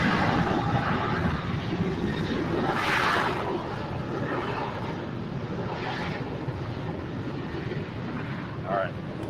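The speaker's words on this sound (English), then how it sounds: "next in for a landing on 24 right is company Southwest Airlines, another 737-800 from New Orleans." A Southwest Airlines Boeing 737-800 landing on runway 24 right at LAX, heard as a broad, steady jet roar that stays loud and continuous, with wind buffeting the microphone.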